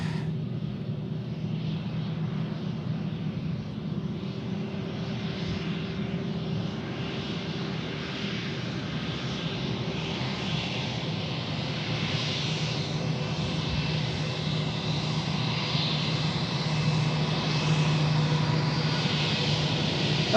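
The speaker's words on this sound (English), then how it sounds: "here comes some more F-16s back in business" F-16 fighter jets pass overhead near Tucson International Airport, a steady broadband engine roar that holds loud and continuous throughout with no voices.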